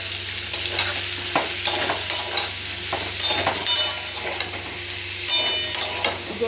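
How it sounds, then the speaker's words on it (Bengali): Potatoes frying in a pan with chilli powder, salt, sugar, turmeric, grated ginger and green chillies, a steady sizzle broken by repeated scraping stirs of the spoon, close and fairly loud with no talking. "দিয়ে ভালো করে ভেজে নেব।"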